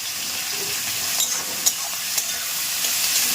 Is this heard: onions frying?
yes